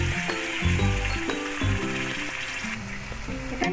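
Chicken pieces sizzle and fry in a pan for a papaya-fenugreek chicken curry just after salt and the water from rinsing the bowl are poured in; a steady, close hiss runs throughout with no talking.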